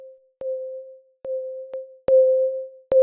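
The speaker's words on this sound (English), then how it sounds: "Now let's get the sound wave we used for the bass." A clean, pure synthesized sine wave bass tone plays in a series of short repeated notes with small clicks at each onset, alone and evenly spaced.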